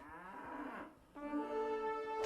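Cattle lowing in Age of Empires II: Definitive Edition, two long drawn-out moos in a row, the second steadier and more tonal, loud and close with no talking over them.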